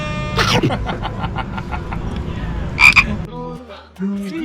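Frogs kept for sale at a bar and grill on Koh Samui croak in a steady, rapid series of loud, close calls, followed by a sharp chirp and a short burst of other sounds.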